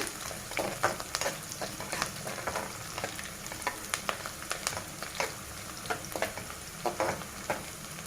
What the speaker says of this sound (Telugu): ఒక 10 తెల్లగడ్డలు, వెల్లుల్లి అవి కూడా వేసేసి వేపేస్తాను.